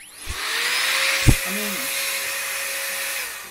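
A 6000mAh cordless electric air duster spinning at 33000 RPM gives a steady, loud whine and rush of air, much like a vacuum cleaner, that holds throughout with a brief bump near the start, while someone speaks a few words over it.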